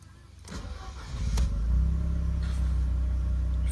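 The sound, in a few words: Mercedes W202 C180 engine starting and idling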